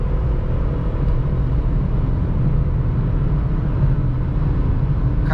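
Inside a Volkswagen Gol 1.0 three-cylinder car accelerating in fourth gear, a loud, steady low engine drone and road rumble hold without pause.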